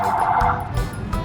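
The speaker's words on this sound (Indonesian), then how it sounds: "Jadi banyak sirine" A toy car siren gives a loud, close electronic warble with a steady tone and brief pulsing breaks, heard without talk.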